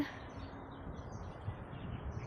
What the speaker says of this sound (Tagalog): ngayon daming ibon oh. Dito sa puno. Punong-puno ng ibon.